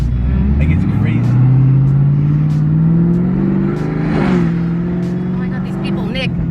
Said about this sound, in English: It's a supercharger.